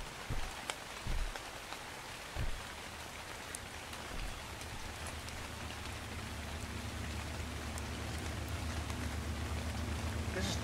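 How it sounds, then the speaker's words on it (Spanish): Rain in the video game ARK falls as a dense, steady hiss of drops, with a few soft thumps early on and a low rumble building toward the end. "Nos pone a llover."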